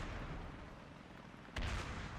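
Video game ARMA 3 combat: steady rumbling battle noise gives way to a sudden loud blast of gunfire and explosion that keeps booming and crackling to the end.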